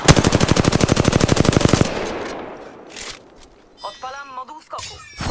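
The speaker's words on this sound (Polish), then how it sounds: "Strzelam." Rapid sustained burst of video game machine-gun fire, loud and close, stopping abruptly after about two seconds, followed by quieter rumbling and short electronic radio-like voice chatter.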